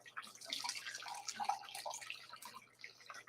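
Boiled water pours from a kettle into a soup pot, a faint continuous splashing, bubbling trickle heard alone at close range, rising and falling slightly as the stream lands.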